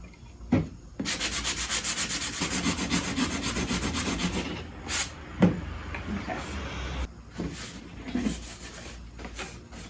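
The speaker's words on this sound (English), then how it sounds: "You can see how easy this is to sand and get smooth." Steady rasping strokes of a handheld sanding block on scrap wood, rubbing back and forth continuously, with a few soft knocks between passes.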